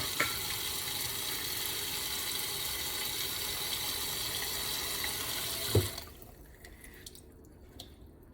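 Tap water runs steadily into a sink while raw pork roast is washed for tamales, a loud continuous splash that stops near the end, leaving faint drips and small clatters.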